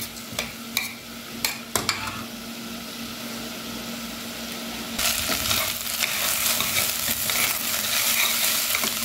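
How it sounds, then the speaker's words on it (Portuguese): Rice frying in a pan with carrot: a few clicks and taps at the start, then a steady, fairly quiet sizzle with light scraping from stirring, no voices. "vou colocar o arroz. Vou dar uma fritadinha aqui."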